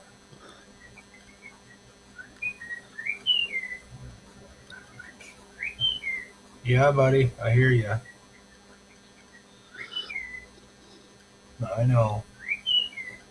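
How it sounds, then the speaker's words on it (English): An indoor pet bird whistles and chirps in short bright bursts, scattered through the clip and fairly close, while someone talks over them in a room. "There's a bird in your house."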